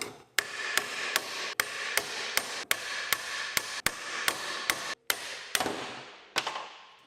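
A hammer repeatedly strikes a car driveshaft yoke on a 1967 Chevrolet Camaro, about a dozen sharp metallic blows at an uneven pace, close and ringing, with no voices.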